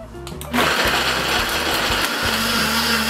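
A Hamilton Beach professional blender on its vegetable setting whirs into a loud high-speed roar, grinding ice, carrots and ingredients after a brief quieter lead-in, running steadily close up.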